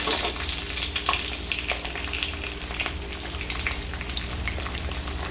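Onion and bay leaf pieces fry in hot oil, giving a steady, dense sizzle close by with light crackles and faint stirring, continuous and with no voices.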